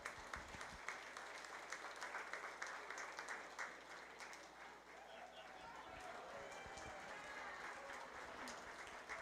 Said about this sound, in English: One more time, big round of applause.